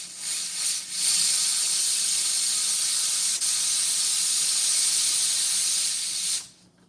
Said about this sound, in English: Come on, build your steam up.